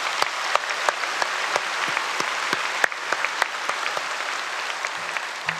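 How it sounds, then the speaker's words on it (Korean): Applause from a church congregation during a Saturday dawn service, a wash of many hands clapping with sharp individual claps standing out near the front, steady throughout. "우리 하나님께 감사의 박수 한번 올려드리겠습니다"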